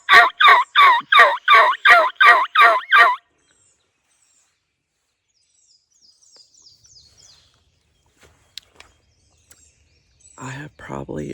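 A hunter's mouth diaphragm call imitates a turkey gobble in a burst of about nine rapid, loud yelps up close. Near-silence follows with faint distant chirps and clicks, then a voice speaks briefly at the end.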